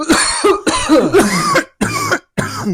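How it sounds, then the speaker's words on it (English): Several harsh coughs in quick bursts, close and loud, with a brief throat-clearing quality between them. "I just had like sympathy cough"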